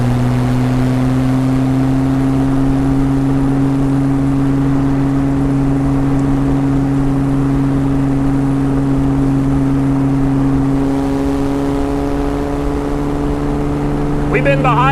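A 1961 Austin-Healey 3000 Mk I BT7 drives along, its engine a loud, steady drone holding around 2,500 rpm at about 50 mph, with a slight pitch rise near the end.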